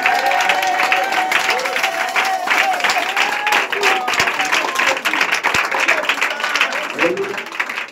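A church congregation applauds and acclaims Jesus on a Sunday morning, a dense, loud wash of clapping and shouting that runs steadily throughout, with raised voices and a sustained tone riding over it.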